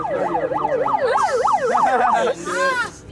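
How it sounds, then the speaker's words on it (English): A phone siren ringtone going off in a pocket, loud and close, with a wailing tone that rises and falls about eight times before switching to a faster warble. "Going off in my pocket. Siren's going off."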